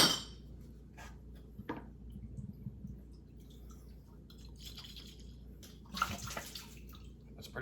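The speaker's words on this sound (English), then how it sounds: "I just dunk them in the solution, shake them up, pour them out." Beer bottles are dunked in sanitizing solution, shaken and poured out on a home-brewing bottling day, heard as close intermittent sloshes, gurgles and splashes of liquid over a low background.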